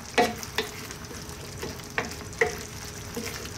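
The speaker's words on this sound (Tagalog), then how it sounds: "Lalagay din tayo ng paminta at asin. Muli, haluin natin." Bicol Express is stirred in a pan after pepper and salt are added, making a soft continuous sizzle broken by several distinct scraping spoon strokes against the pan, close up and without voices.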